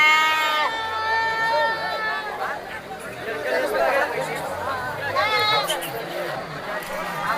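Young rams and sheep bleat repeatedly, close and loud, at a livestock market in Devadurga, over a busy background of people chattering.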